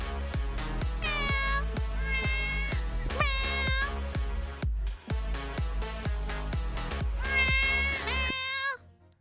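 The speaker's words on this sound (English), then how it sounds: "I like that cat." A cat meows repeatedly in short, rising calls, woven into a steady rhythmic beat that thumps loudly throughout before cutting out near the end.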